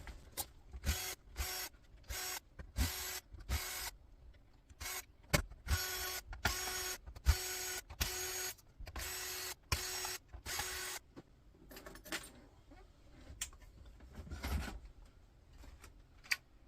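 Screws being undone from a car entertainment system, sped up, giving a rapid series of short whirring and scraping bursts broken by brief gaps, close and fairly quiet.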